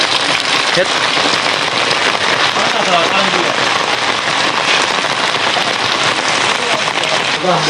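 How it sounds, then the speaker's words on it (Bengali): Steady heavy rain pours down, a dense unbroken hiss of drops hitting surfaces throughout. "বাইরে তো বৃষ্টি আইছে"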